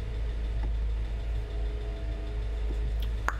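Car parked right outside with its engine running, a steady low idling rumble held at constant level throughout, with a few faint clicks over it.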